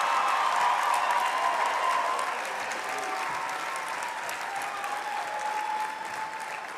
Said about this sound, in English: please give a round of applause for the graduates